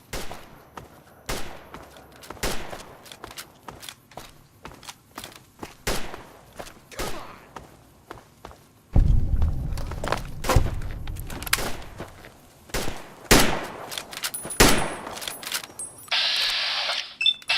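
Gunfire in Fallout, Tale of Two Wastelands: scattered sharp shots and thuds spread across the stretch, some in quick bursts, with a louder rumbling section midway and a brief tonal chime near the end, no talk.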